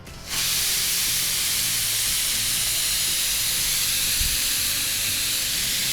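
Steam vents from a pressure cooker whistle while a dish is cooking in a home kitchen. A loud, close hiss bursts in abruptly and holds steady without a break.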